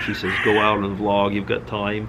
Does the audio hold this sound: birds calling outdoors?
yes